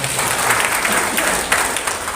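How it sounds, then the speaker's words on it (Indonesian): An audience claps steadily in a dense, even burst of applause for a short stretch at a business presentation, with some crowd murmur mixed in. "Tepuk tangan buat PTBS."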